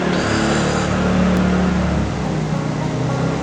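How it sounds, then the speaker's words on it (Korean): A motorcycle's engine drones steadily at close range, a continuous rumbling hum with a brief higher whine partway through, no voices over it. "오토바이 잡음 때문에"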